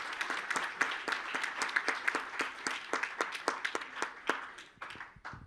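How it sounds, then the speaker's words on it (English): A small audience at a cocktail-making competition claps for the contestants, a modest scatter of distinct individual claps in quick irregular rhythm that thins out and fades toward the end. "Round of applause for all of our contestants today."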